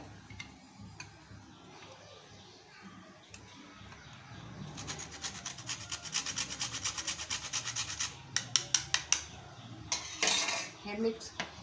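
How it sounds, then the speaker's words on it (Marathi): Nutmeg rubbed against a small grater while preparing Ashadh-special kapanya sweets, a run of quick dry rasping strokes that grows busier partway through, with a few sharper scrapes near the end and no talk. "जायफळ खिसायचं"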